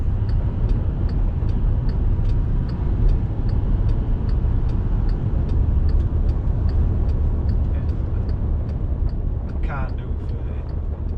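A VW Amarok pickup with traction control switched off accelerates during anti-roll bar roll testing: a steady, loud low engine and road rumble with a faint regular ticking throughout and a brief higher squeal near the end.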